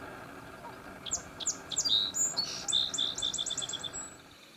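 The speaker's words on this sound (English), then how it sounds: "These birds have a specialized voice box that can produce complex sounds." Pennsylvania songbirds sing a quick series of bright, high chirps and trills. The notes run in bursts and grow busier toward the middle before fading, set against a soft outdoor background.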